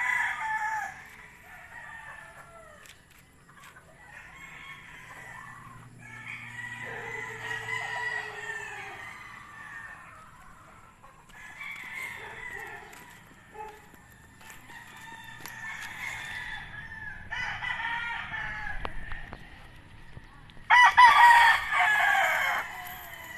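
Gamefowl roosters on a game farm crow repeatedly, several birds overlapping at varying distances, with soft clucks in between and a sharper, louder crow near the end, and no talk.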